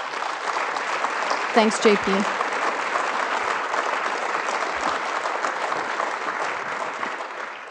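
A dense wave of audience applause rolls through a hall at a Canadian Club farewell address, steady and loud throughout, with a brief voice breaking in near the start.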